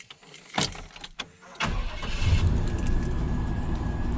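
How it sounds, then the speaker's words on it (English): Engine on a 1995-1998 GMC/Chevy C/K 1500 pickup truck cranking and catching, a few sharp clicks and clunks first, then a steady loud idle rumble. "when we crank up the truck"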